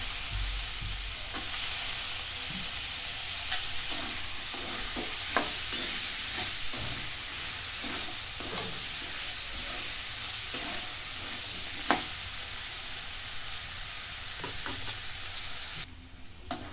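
Mixed vegetables, including potato, are stir-fried in a kadai for pulao: a loud, continuous sizzle with repeated spatula scrapes and knocks against the pan, close and without speech.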